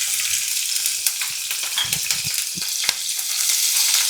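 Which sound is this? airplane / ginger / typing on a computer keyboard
ginger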